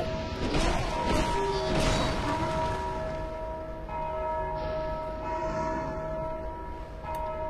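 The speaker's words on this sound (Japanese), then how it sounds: "鐘鳴らしてる" A bell in Dark Souls II rings out with clanging metallic strikes over a dense game soundscape, followed by a sustained ringing tone that fades under ambient noise.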